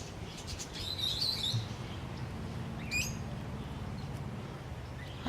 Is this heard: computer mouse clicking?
no